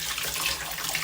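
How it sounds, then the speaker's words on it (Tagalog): Hot water runs from a home kitchen tap in England while something is rinsed under it, a bright, close, continuous splashing stream with small fluctuations and no speech. "lawan ko ng isang beses. Para matanggal yung mga dumi mo."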